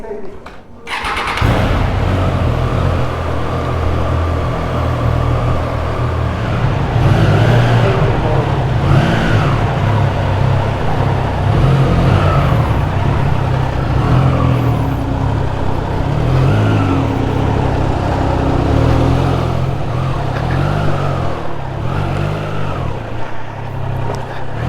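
A new Triumph Trident 660 motorcycle starts and rides off, its three-cylinder engine rising and falling through repeated revs and gear changes, close and loud with wind noise, as the rider talks over it.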